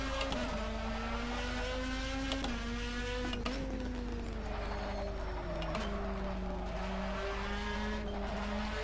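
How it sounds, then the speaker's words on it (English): A race car engine howls steadily around the Nordschleife in rFactor, its pitch rising and dropping through gear changes and corners, loud and continuous with no talking. "turn my engine down"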